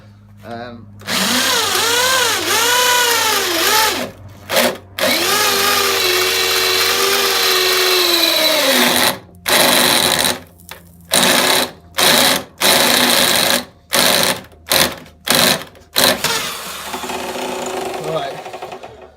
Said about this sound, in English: So rather than press this out, we're just going to drill it out.